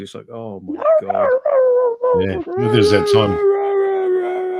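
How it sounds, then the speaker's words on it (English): A dog howls loudly and at length in a long rising and falling wail that carries through the scene, while people talk excitedly over and around it. "I can hear the dog howling"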